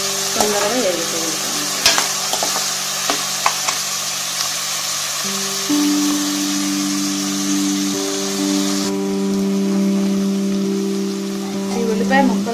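Onion pieces with salt fry in a pan for a mutton tomato curry, giving a steady close sizzle with stirring scrapes; background music runs underneath throughout.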